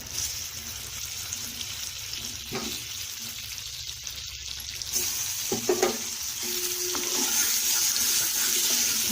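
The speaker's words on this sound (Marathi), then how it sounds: "त्याचा गॅस कमी करायचा आणि त्या तापलेल्या तुपामध्ये हे आंबे घालायचे" Ripe mango pieces frying in hot ghee over a lowered flame, a steady close sizzle with occasional stirring clatter and a louder burst partway through, no talk.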